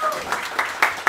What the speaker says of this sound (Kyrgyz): өзүңүздөргө кол чабуулар болсун.